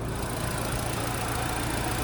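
The 2.3-liter turbocharged four-cylinder engine of a 2026 Ford Bronco Outer Banks idles with a steady, low, even rumble, heard close by in the engine bay with no talking.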